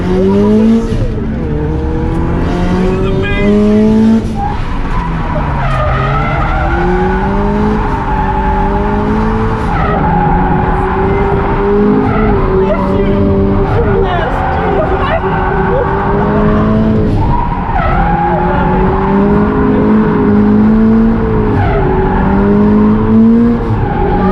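Turbocharged FRS drifting at a charity event, engine revving up and down in waves with long tire squeal throughout, loud and close as from inside the car.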